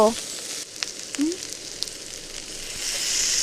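Chili powders and salt fry in a pan with a quiet, steady sizzle, broken by a few light stirring scrapes and a brief tonal squeak, and the hiss rises slightly toward the end.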